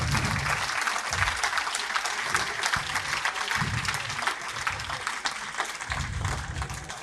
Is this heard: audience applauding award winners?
yes